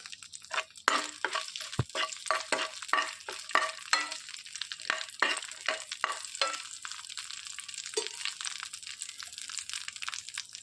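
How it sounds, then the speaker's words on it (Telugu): Green chillies fry in hot oil with cinnamon, cloves and cardamom, sizzling steadily while a spoon scrapes and stirs in sharp, repeated strokes that crackle and clink close by. "దాసిన చెక్క లవంగా యాలకులు వేసేసుకొని వేయించుకోవాలి ఇందులోనికి తరిగి పెట్టుకున్న నాలుగు పచ్చిమిర్చి వేయించేసుకోవాలి"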